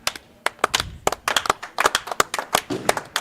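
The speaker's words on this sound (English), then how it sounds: "Should we give him the European claps here?" Audience at a bowling event clapping in a loose, sharp rhythm, about a dozen crisp individual claps spread across a few seconds, fairly close and with no talking over them.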